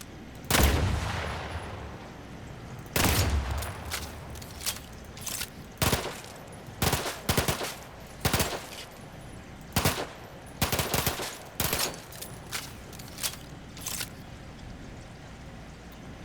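Gunfire in The Outer Worlds 2 game: loud sharp shots and short bursts, about a dozen, spaced irregularly across the stretch with brief quiet gaps between them, and no talking.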